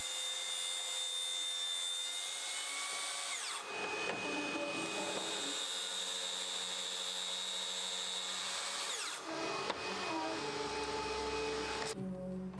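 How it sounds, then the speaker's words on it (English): A track saw running along a guide rail through wooden table legs for a bedside table, a steady loud whine and cutting roar lasting several seconds with brief drops as the cut pauses and restarts. "So instead I used the track saw."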